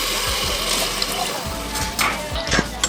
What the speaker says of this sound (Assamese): আৰু ইয়াত এতিয়া মই পানী এড কৰি দিছোঁ